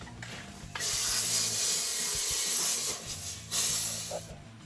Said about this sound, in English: it's time for the plasma cutter.